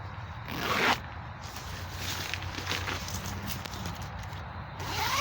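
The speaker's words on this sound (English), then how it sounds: "These windows zip up." Zippers on the windows of a OneTigris Cozshack hammock hot tent being drawn shut, a close rasping zip-up repeated a few times with brief pauses, fabric rustling in between and no talking.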